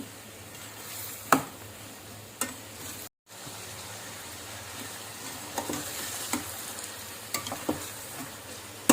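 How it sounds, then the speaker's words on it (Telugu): Onions softening in oil for a drumstick milk curry make a low, steady sizzle with a few sharp clinks of a stirring spoon, heard fairly faintly with no talk. "ఉల్లిపాయలు మంచిగా నూనెలో మగ్గాలి."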